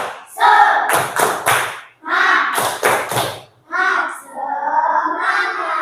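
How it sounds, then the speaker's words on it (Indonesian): Children in a classroom perform the tepuk semangat chant, sharp rhythmic hand claps in quick bursts mixed with their chanting voices, close and lively, ending in a sustained sung phrase. "Tepuk semangat."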